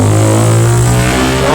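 A loud vehicle exhaust, likely an aftermarket or modified muffler, revs steadily and close by, with a continuous throaty engine roar filling the short stretch and no talking over it.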